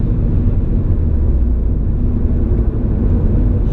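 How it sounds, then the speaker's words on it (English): A 400+ hp flex-fuel Subaru WRX accelerates hard through the gears, giving a loud, continuous low engine roar and rumble that holds nearly steady with small fluctuations. No one speaks. "I'm gonna try a first to third gear pull"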